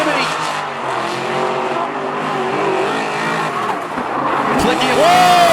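Drift cars at a Klutch Kickers drift series competition, engines roaring with skidding tires and a rising squeal near the end, loud and continuous under commentary.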